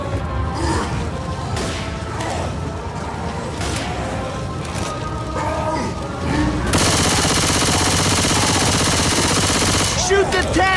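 Sustained automatic gunfire in Left 4 Dead 2 aimed at the Tank, rapid bursts clattering throughout and intensifying into a dense continuous barrage near the end, with shouted voices mixed in.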